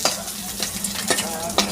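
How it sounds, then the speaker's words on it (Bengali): Mrigal fish pieces fry in oil in a wok (kadai), a steady sizzle broken by a few sharp scrapes and clinks as they are stirred and lifted out; no one speaks. "তো মাছগুলো আমার ভাজা হয়ে গেছে, আমি কড়াই থেকে ছেঁকে নিই।"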